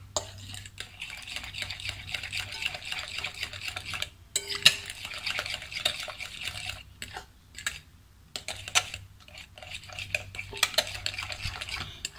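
A spoon clinks and scrapes against a bowl in uneven bursts while cinnamon powder is stirred into mashed banana pancake batter, with short quiet pauses between strokes.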